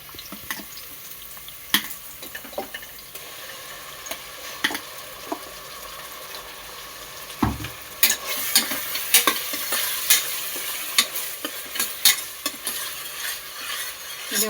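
Green chillies and ginger paste frying in a pan for bagara rice with chicken curry, a steady close sizzle that grows louder and brighter partway through, broken by irregular scraping stirs.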